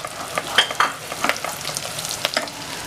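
Green chillies frying in a pan for restaurant-style butter paneer masala, with soft crackling sizzle and scattered stirring scrapes close by, steady and fairly quiet throughout.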